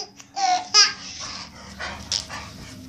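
A dog whimpers and gives a few short yips and barks nearby, in quick irregular bursts over about three seconds, with a baby present.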